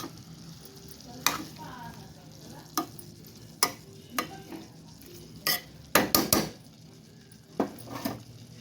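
Broad beans with turmeric fry over a low flame in a pan while a spoon stirs them. Sharp, irregular scrapes and clinks of metal on the pan punctuate a soft, steady sizzle.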